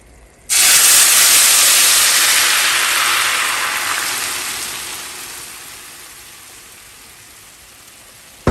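A loud hiss of hot blended sauce sizzling in a pot bursts in suddenly, then slowly softens and fades over several seconds as it comes to a boil.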